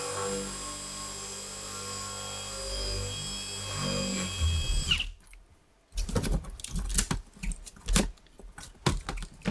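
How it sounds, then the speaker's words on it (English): A power drill bores out a stuck screw in salvaged electronics from a trash pile, starting with a steady whine, then cutting off before rough, uneven grinding bursts resume up close. "we're gonna go ahead and drill this screw out."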